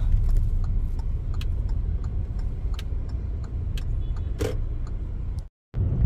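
Heavy road traffic heard from inside a vehicle: a constant low engine and road rumble with regular faint ticking clicks, then a brief drop to silence near the end.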